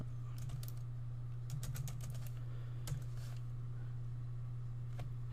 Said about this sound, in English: Now all you have to do is type in a file name